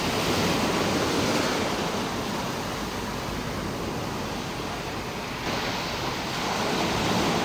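Ocean waves crash on the shore in a steady, loud wash of surf noise with wind buffeting the microphone, rising and falling slightly over several seconds with no voices.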